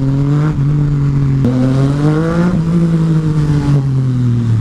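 A Yamaha MT-09 motorcycle engine sits close and loud, running steadily with several rising revs and gear-like pitch shifts. No voices are heard.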